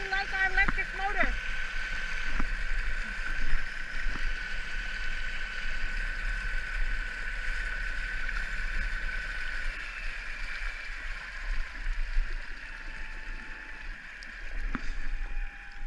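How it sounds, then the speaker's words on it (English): A Torqeedo 1003s electric outboard pushes a Sea Eagle Paddleski inflatable kayak across Spring Lake. It gives a steady high whine over constant water rush and wind noise, close and continuous throughout. "We like our electric motor."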